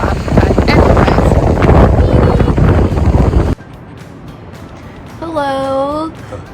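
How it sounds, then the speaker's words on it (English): Strong wind buffets the microphone in Iceland, a loud, continuous broadband roar for about three and a half seconds, then drops to a quieter gusty background with a brief tonal whine near the end. "The wind is pretty bad."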